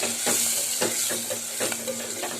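Chili powder and homemade sambar powder sizzle in hot oil in a pan during sambar cooking, a steady close frying hiss with soft repeated stirring scrapes throughout.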